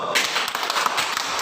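A classroom of students claps for a classmate with a brisk, steady patter of many hands, close and fairly loud, running the whole time with no voices over it.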